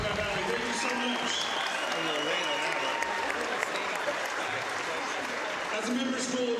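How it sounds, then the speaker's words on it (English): A gym crowd at a boys high school basketball game between Grandview Heights and Buckeye Valley applauds the school staff. Loud, continuous clapping fills the space, with voices and cheering mixed throughout. "Let's give a round of applause to our amazing staff members at Buckeye Valley."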